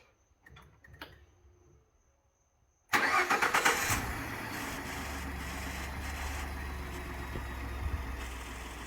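A few quiet clicks, then a 2013 Ford F-150 pickup truck's engine cranks and catches abruptly, settling into a loud, steady idle nearby.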